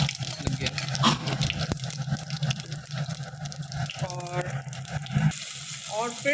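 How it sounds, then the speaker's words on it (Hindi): Whole spices, including cumin, splutter in hot oil in a home kitchen, a continuous crackling sizzle with sharp pops throughout, while people talk over the frying. "हाँ देखिए छिट्टा बहुत तेज मार रहा है भाई"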